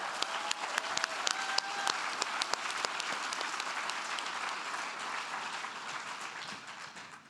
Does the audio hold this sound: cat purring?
no